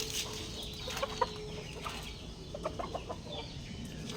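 A broodcock chicken in a coop gives a few soft, scattered clucks, faint and somewhat distant over a constant low background noise.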